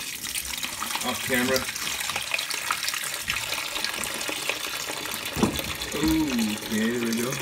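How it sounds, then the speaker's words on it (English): Water drains from the hose of a Samsung WA45H7000AW washing machine that won't drain, pouring into a bucket as a close, steady splashing stream while someone talks briefly. "All right, the hose kept draining."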